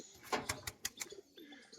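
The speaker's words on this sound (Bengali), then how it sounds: "চল নরের ডাক দেখুন, খ্যাপা ডাক" A male pigeon of a white and green crested fancy breed coos up close, giving a quick run of five or six throaty, rhythmic notes followed by a softer trailing call.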